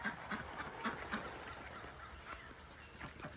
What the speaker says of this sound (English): as I move out here, you'll hear quacking.